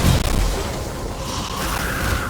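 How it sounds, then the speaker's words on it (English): Booming explosions from the video game Evil West, a dense, heavy blast at the start followed by rumbling, crackling debris and continued low booms throughout the short burst. "The game's effects are also well done, with particularly impressive explosions and particle effects"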